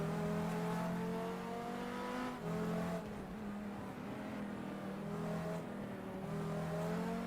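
Race car engine in the GTR2 racing game at the 2003 Spa 24 Hours, revving steadily through gear changes with a strong harmonic drone that stays loud and continuous throughout, with no talk over it.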